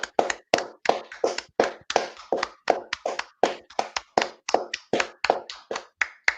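Hand clapping in support of the NHS from a small group at a UK podiatry institute gathering, a close run of roughly two dozen sharp, distinct claps at a fairly even rhythm with no talk.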